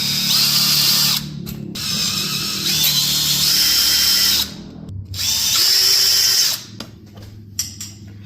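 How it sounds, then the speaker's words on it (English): A power drill whines in several long bursts while drilling holes on a teardrop trailer, about four runs separated by brief pauses, loud and close with the motor pitch rising as it bites. "now I'm going to drill out my other holes"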